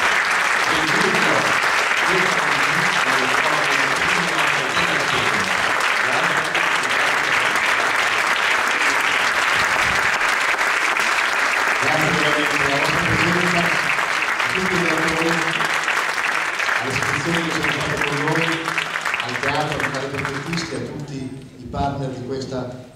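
Sustained audience applause at an event in Como, Italy, loud and continuous, with an amplified voice speaking over it through much of the stretch before the clapping thins near the end.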